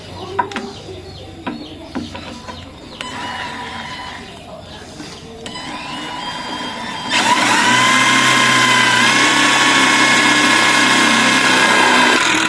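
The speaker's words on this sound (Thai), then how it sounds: "เรามาดูการขันสกรูหัวบล็อกกันต่อนะครับ" A Dongcheng cordless impact driver drives a large hex-head screw. Scattered clicks and short handling noises come first, then the tool starts and runs with a loud, steady, high-pitched whine and rapid impacting until the end.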